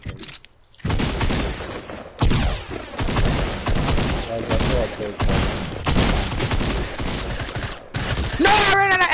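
Suppressed assault rifle fire in a video game: repeated bursts of rapid shots in several clusters, loud and close, broken by brief gaps, ending in a short tonal sound.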